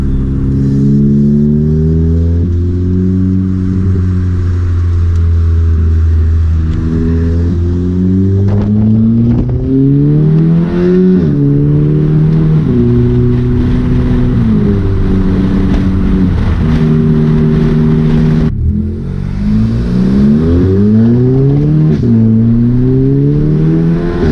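A car engine revs hard and accelerates repeatedly, very loud and close. Its pitch climbs through gear after gear, broken by brief dips between shifts, with no talk over the roar.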